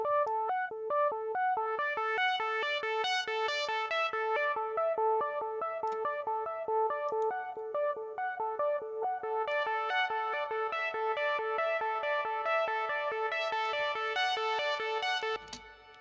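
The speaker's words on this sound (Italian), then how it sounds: "lascio in mute un attimo il delay e ascolto il mio riverbero" A synth track plays a running sequence of bright notes through reverb with the delay muted, so each note trails into a wide wash. The notes are steady and continuous, with no talking.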